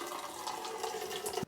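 Melted candle wax, for a bulk batch of candles, pours in a steady liquid stream into a pitcher for about a second and a half before stopping abruptly.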